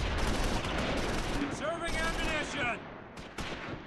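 Rapid, rumbling explosions and gunfire from a video game battle, dense and loud, with a speaking voice cutting through partway.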